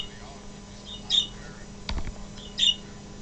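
A pet bird gives two sharp, loud squawks about a second and a half apart, close to the microphone, with a brief thump between them.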